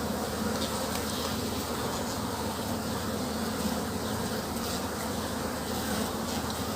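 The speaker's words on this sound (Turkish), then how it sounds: "Bu aranın en çok hoşuma giden yönü İtalyan sarı sarı arıları var" Dense, steady buzzing of many Italian honeybees close by at a hive, a continuous swarm hum with no pauses.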